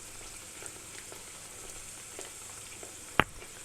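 Oil sizzling steadily in a pan as börek fries, a soft crackling hiss with a single sharp pop near the end; no voices.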